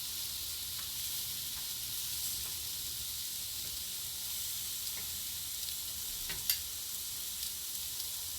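Tortillas frying in a pan during flipping give a steady, soft sizzling hiss throughout, broken by a few light scrapes and one sharper clatter near the end, with no talking.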